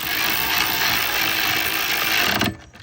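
Ratchet wrench clicking steadily while tightening radiator bolts on a 2003 Lexus GS430 during a three-row radiator install, a dense continuous mechanical rattle close up that cuts off abruptly near the end.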